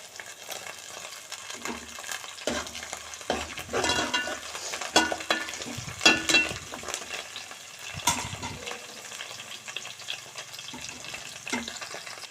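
Curry leaves fry in a pan for a fish curry, crackling and sizzling while a spoon stirs in irregular scraping bursts, with steady kitchen noise and no speech.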